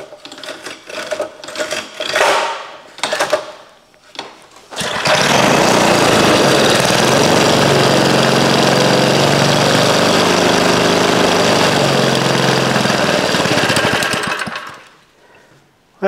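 A 1956 rototiller engine with carburetor trouble sputtering briefly, then catching and running loud and steady at a fast rattling rhythm for about ten seconds before dying away, close to the listener.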